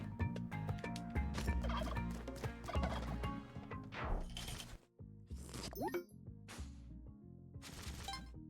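A turkey gobbles in the video game Blue Prince, its warbling calls set against busy game music and effects, with a sharp shattering burst partway through.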